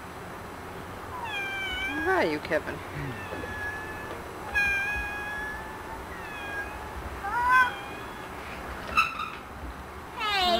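A child imitates a cat, giving a string of rising and falling meows, moderately close, with a few spoken words in between and outdoor background noise.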